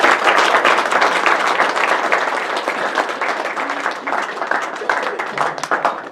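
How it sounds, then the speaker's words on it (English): Audience applause for speaker Paul at an ASHRAE chapter meeting, a dense sustained burst of clapping from a roomful of people that carries on loudly throughout with faint voices mixed in. "A round of applause for Paul, please."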